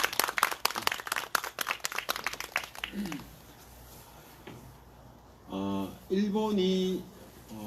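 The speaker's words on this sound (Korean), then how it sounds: "다시 한 번 더 우리 윤문순 회장님께 큰 박수 부탁드리겠습니다." Scattered clapping from a gathering honouring a chairperson, a few seconds of uneven claps that taper off, followed by a voice speaking alone.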